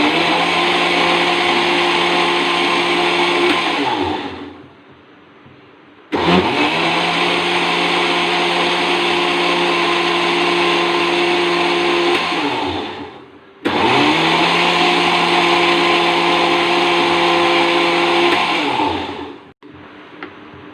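A loud mixer grinder blending ghevar batter whirs in three long bursts, each spinning down to a stop before the motor starts again.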